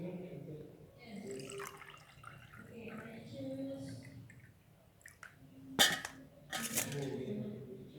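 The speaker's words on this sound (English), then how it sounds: "Then pour the ice cubes and the water." Ice cubes clink and rattle into a glass, followed by water being poured in while someone talks in the kitchen, with a couple of sharp close cracks among the splashes.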